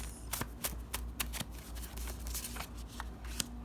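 Tarot cards shuffled by hand up close, a quick run of crisp riffling snaps and soft slides in an irregular rhythm over low room hum.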